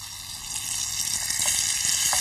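A chicken leg placed skin side down in hot butter and oil for French coq au vin sizzles with a steady, bright hiss that swells slightly and keeps going with no talk.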